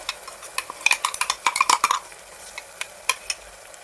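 Masala paste being stirred into fried tomatoes in a pan for mutton curry: a spoon scrapes and clinks against the vessel in a quick run of close strokes, then a few slower scrapes over a faint sizzle, with no talking.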